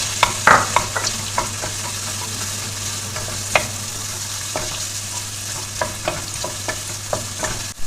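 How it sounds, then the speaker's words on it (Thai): Onions sautéing in hot butter for a Turkish chickpea stew, a steady close sizzle with a low hum underneath and repeated sharp taps and scrapes of a utensil against the pan, no voices. "ตอนนี้ตัวเนยของเราก็เริ่มร้อนแล้วนะคะ เราก็จะใส่หอมใหญ่ ลงไปผัด"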